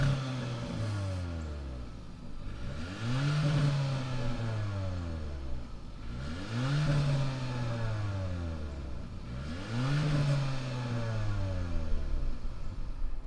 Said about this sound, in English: let's fire up this GT line Kia Soul and see what does it sound like.